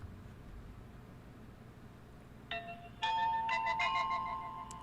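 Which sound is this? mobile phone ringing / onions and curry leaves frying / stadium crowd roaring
mobile phone ringing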